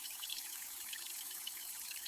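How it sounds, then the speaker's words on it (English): A shower runs steadily, its falling water making a constant close hiss with no pauses and no voices. "I take a shower."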